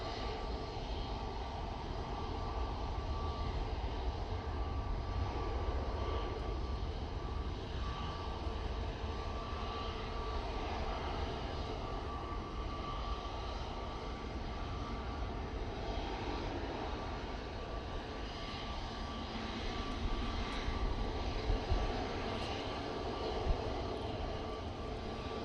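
An airliner touches down and rolls out at Manchester Airport in windy weather, a steady broad engine roar that stays loud and continuous throughout with no voices.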